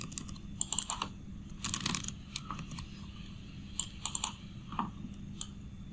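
Fingers typing HTML code on a computer keyboard in irregular bursts of quick, close key clicks over a steady low background hum, with no talking.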